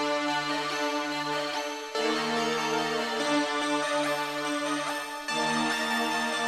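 Odd saw synth preset shaped with EQ and compression, playing buzzy sustained notes with sliding pitch bends over a low drone, chords shifting every couple of seconds, loud and solo.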